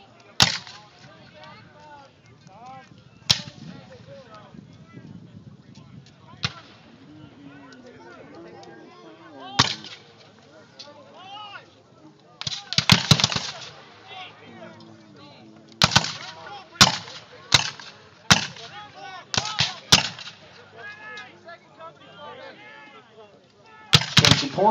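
Civil War reenactment battle lines firing muskets, with sharp loud volleys and single reports scattered irregularly across the field, some clustered in quick bursts, while someone narrates over a PA between the shots.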